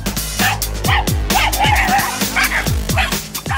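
A small dog barks repeatedly in quick, sharp yips, several barks per second, loud and close with no other voices.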